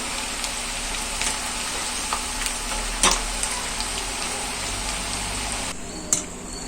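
Murukku frying in oil over a medium flame, a loud, steady close sizzle with scattered crackles and a few sharper pops, and no talking.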